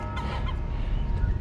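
A seagull on a rooftop near an AC unit gives a low, gurgling growl, close and rough, with harsh clucking tones over a brief stretch.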